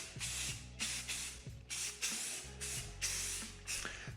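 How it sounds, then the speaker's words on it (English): Light bursts of spray paint hiss onto a rifle being camouflaged, about seven short sprays in a steady rhythm, close and alone with no talk. "You just want to do light sprays across."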